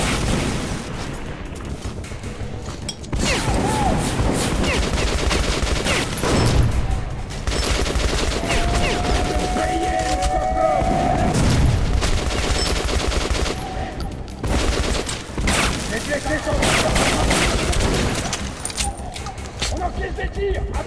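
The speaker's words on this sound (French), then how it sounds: "On encaisse des tirs!" Gunfire in the video game Metro Last Light: loud, sustained bursts of automatic fire and impacts, dense and near, with a brief lull before the shooting resumes.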